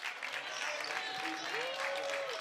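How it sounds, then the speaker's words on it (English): Fans applaud at a boys high school basketball game between New Prague and St. Louis Park, steady crowd clapping throughout, with an announcer's voice talking over it. "They're giving them applause for a great game played"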